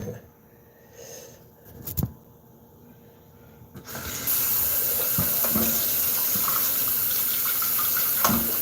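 A kitchen tap runs into a sink as a pan is rinsed out, the water starting after a few quiet seconds with some clatter and then pouring steadily and loudly to the end.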